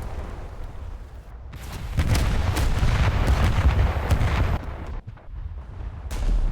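Heavy torpedo explosions in a naval warship game, a loud sustained roar of blasts and rumbling debris that swells around the middle and then trails off, with a fresh burst near the end.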